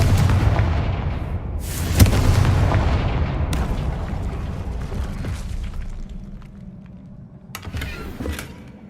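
A Confringo blasting curse bursts in Hogwarts Legacy, a loud booming blast followed by rumbling debris, with further sharp cracks and rolling booms fading out.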